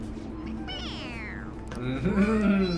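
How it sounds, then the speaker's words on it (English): A stuffed toy cat in the video game Persona 5 Royal gives two soft, high meows when pressed on its head, quiet against a faint background hum with a voice underneath. "It meows when you press on its head."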